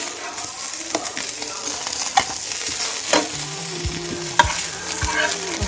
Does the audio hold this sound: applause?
no